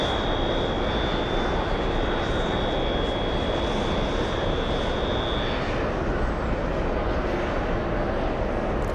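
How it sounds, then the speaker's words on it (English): A Cathay Pacific Boeing 747 jet at JFK airport gives a steady, loud broadband roar with a thin high whine that fades partway through, the engine noise continuous throughout. "We might see the takeoff of the 747."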